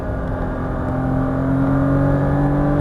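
Porsche Cayman GTS engine under hard throttle, a loud, steady droning hum that rises slightly, heard from inside the car with no talking.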